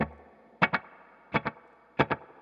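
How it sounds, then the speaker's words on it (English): Electric guitar through a slapback delay pedal: three short plucked notes, each followed closely by a single quick echo, clear and close with no talking. "A slapback style delay, if you listen to the delay, what I've got set up here"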